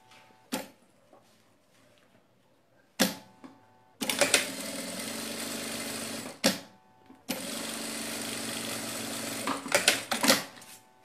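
A sewing machine stitching a fabric bag runs in two sustained bursts of rapid whirring needle clatter, each several seconds long, separated by short pauses with single clicks and handling knocks; close and fairly loud, no talking.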